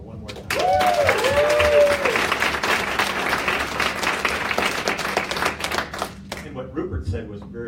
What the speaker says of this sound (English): you guys all deserve a round of applause for what you did